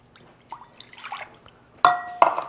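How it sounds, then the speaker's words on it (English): Milk being poured into a pot of simmering Hungarian mushroom soup with sausage, heard as two loud, wet splashing pours near the end, after quieter clinks and small liquid noises. "now we're going to take our milk"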